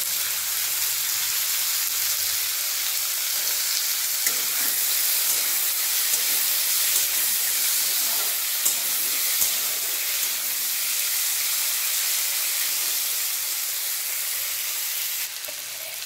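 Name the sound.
onions and chopped tomato frying in a pan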